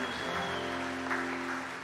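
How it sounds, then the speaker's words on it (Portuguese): A church congregation applauding during a Portuguese-language service, a steady wash of clapping that fills the whole moment with a sustained tone humming underneath. "Dá uma salva de palmas a Jesus"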